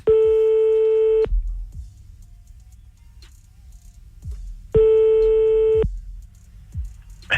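Telephone busy tone sounding after a call cut off, two long steady beeps about a second each separated by a few seconds of low background rumble.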